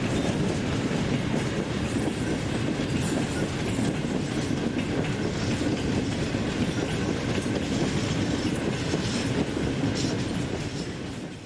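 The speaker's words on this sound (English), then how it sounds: "heads west with an empty coal train" An empty coal freight train rolls steadily past in Poland, heading west from Rybnik, a continuous loud roar with wagon wheels clattering over rail joints, close and unbroken for the whole stretch, with no voices.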